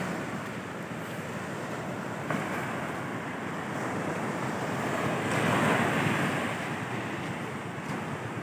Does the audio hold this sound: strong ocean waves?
yes